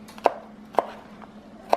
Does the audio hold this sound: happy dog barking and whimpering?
no